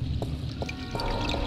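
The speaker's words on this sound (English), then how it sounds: "I hear water." Water flows and pours steadily in the adventure game The Longest Journey, a continuous trickling wash with a few brief splashy accents.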